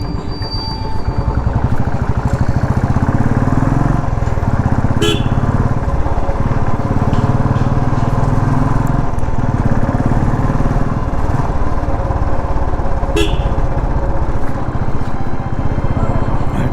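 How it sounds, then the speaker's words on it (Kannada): Royal Enfield Classic 350 motorcycle on the move with tappet noise, its engine a loud, steady, close low rumble and thump that runs throughout, with a couple of faint sharp clicks. "ಟ್ಯಾಪ್ ಇಟ್ ನಾಯ್ಸ್ ಇದೆ, ಆದಷ್ಟು ಬೇಗ ಅದನ್ನು ರೆಡಿ ಮಾಡಿಸ್ಬೇಕು."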